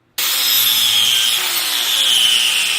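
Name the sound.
cutting a 90-degree notch in steel frame tube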